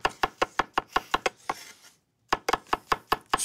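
A knife chops fish on a cutting board in a fast, even series of sharp, close knocks. A short scrape breaks the run, then a pause, and the quick chopping resumes.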